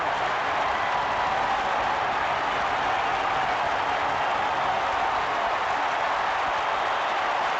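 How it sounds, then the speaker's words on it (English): A baseball stadium crowd roars after a Ryan Braun home run, a loud, steady wash of cheering and applause that holds at full strength throughout, with no individual voices standing out. "Ryan Braun just sent this crowd into a frenzy with his 37th home run."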